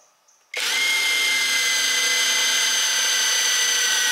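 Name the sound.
power drill boring with a drill bit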